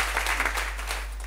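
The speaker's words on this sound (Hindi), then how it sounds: "जबरदस्त तालियां बजाओ" A brief burst of audience clapping at an RCM Business seminar in Jehanabad, dense and close, tapering off after about a second.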